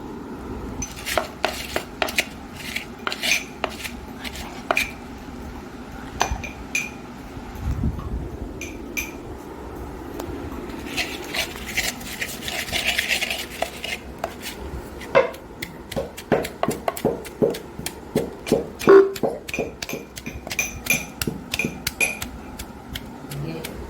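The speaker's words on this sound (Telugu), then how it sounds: "ఇప్పుడు మనం పప్పు గుత్తితో మిక్స్ చేద్దాం" A wooden dal masher works gongura chutney in a pot, giving a steady run of close knocks and scrapes against the pot with a few sharper utensil clinks scattered through, and no voices.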